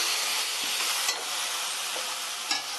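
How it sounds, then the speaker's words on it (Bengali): Ground spices are stirred into a banana flower and prawn curry in a pan, a steady sizzle under soft scraping strokes of the spoon, close and continuous with a couple of sharper knocks. "এবার সব গুঁড়ো মশলা একটু ভালো করে মিশিয়ে নিচ্ছি।"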